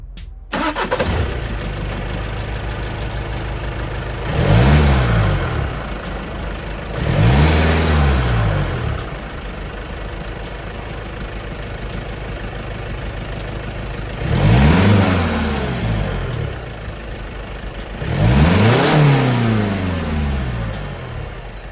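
A diesel VW Golf GTD fitted with a K&N 57S performance airbox settles at a steady idle, broken by four loud, close rev blips that rise and fall back, spaced a few seconds apart.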